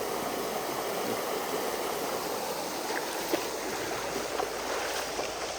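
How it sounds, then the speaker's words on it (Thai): Continuous rushing water, a broad steady roar like a fast-flowing stream close by, with a few faint knocks and no speech. "ตอนนี้น้ำไหลแรงมาก"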